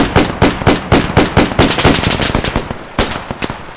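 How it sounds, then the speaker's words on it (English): Rapid bursts of automatic machine gun fire in the ARMA 3 World War II Pacific campaign, loud and close, with repeated sharp shots in quick rhythmic volleys that thin into scattered cracks. "I wasn't aware of that active machine gun"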